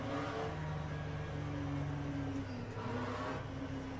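McLaren GT3 race car engine in the sim racing game Le Mans Ultimate, a steady mid-pitched drone that rises and shifts with throttle, loud and continuous with no talk.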